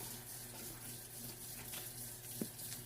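Tap water runs steadily into a colander of beef pieces, a soft continuous splash and hiss, quiet and close, with one small knock near the end.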